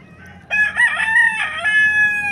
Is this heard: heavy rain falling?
no